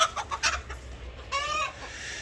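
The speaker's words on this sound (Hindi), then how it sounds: "मुर्गे भी मिठाई के पीछे देखो लड़ रहे हैं।" Chickens fighting over sweets cluck repeatedly nearby in quick, agitated bursts, with one drawn-out squawk partway through against a light outdoor village background.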